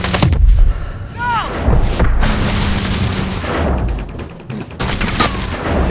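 Rapid bursts of gunfire and heavy booms crackle through a chaotic Call of Duty: Advanced Warfare soundscape, with short synthetic sweeps and faint voices mixed in.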